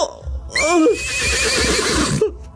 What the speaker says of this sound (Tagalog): Parang ingay ng isang kabayo. Parang sa labas ng bahay namin.